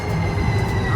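A passenger train rolling along its rails, heard from on board as a loud, steady low rumble with a faint squeal of wheels.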